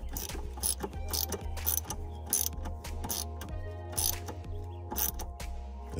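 A ratchet tightens the fuel filter fitting on a 2003 BMW E39 530i, a rapid steady run of close mechanical clicks in bursts, fairly loud against a low background hum, with no speech.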